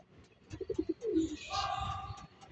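A racing pigeon back from a 186 km flight from Mulanay, Quezon coos in a few soft, low pulses, followed by other chirping birds and faint background voices.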